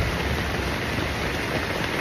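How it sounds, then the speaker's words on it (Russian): Steady rain falls on a tent during a thunderstorm, a dense, even hiss of drops pattering on the fabric close by, unbroken for the whole stretch with no voices. "Под шум дождя."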